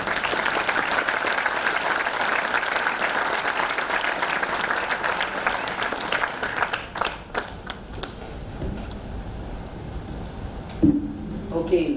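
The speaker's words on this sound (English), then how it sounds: "applause for my panel also" Steady applause from a book launch audience in Ludhiana fills most of the clip, with a few voices breaking through near the end as the clapping thins out.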